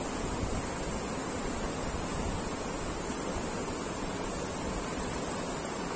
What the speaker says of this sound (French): Je te laisse écouter un petit peu le ruisseau.